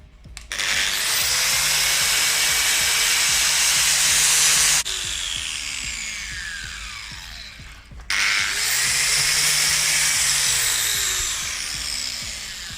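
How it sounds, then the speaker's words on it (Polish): A power sander grinds a cracked car dashboard, whining loudly and steadily, stops briefly, then starts up again and keeps running, close by. "Teraz ja spróbuję te nierówności wszystkie szlifierką zeszlifować."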